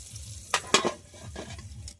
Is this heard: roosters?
no